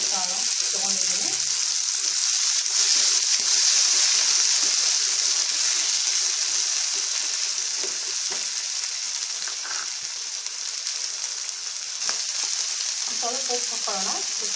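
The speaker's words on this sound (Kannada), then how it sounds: "ಬಟಾಣಿ ಕಾಳನ್ನು ಹಾಕ್ತಾ ಇದ್ದೀನಿ," Fresh green peas frying in a pan give a steady, loud sizzle throughout, with occasional stirring scrapes and brief snatches of talk.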